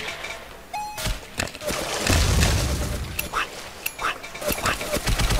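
Grenade blasts in the blocky first-person shooter Ace of Spades: several sharp booms and bursts of gunfire scattered over a few seconds, with a heavier low rumble midway, mixed with game effects and some talk.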